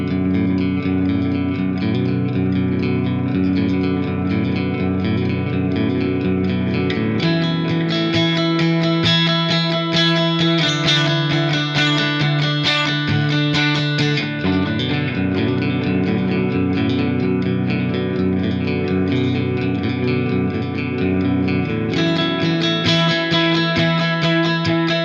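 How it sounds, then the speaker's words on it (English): Ambient song idea played on an instrument through a delay pedal, with sustained, layered chordal tones and echoing repeats forming a dense, steady wash at a constant loud level, with no talking. "So if I were to include my delay pedal,"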